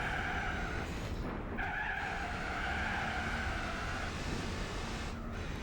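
Tires of a rally car skid and squeal steadily in Gran Turismo 4 on the Chamonix rally course, with a continuous engine drone underneath and brief breaks in the screech.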